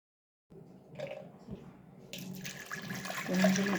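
Water poured into a pressure cooker holding moong dal, a steady splashing pour that builds and grows louder toward the end, heard alone at close range.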